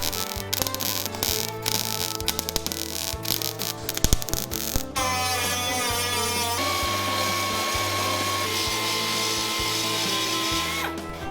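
An angle grinder working over weld seams on a car fender, first in short stop-start bursts, then running in one long continuous whine with a steady motor hum, loud and close, no talking.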